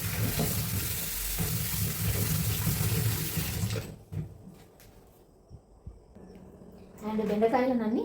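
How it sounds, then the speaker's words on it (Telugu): Okra being washed in water, with splashing and rinsing for about four seconds, then a quieter stretch with a few small knocks, then a person speaking. "నీట్గా అయితే వాష్ చేస్తున్నాను."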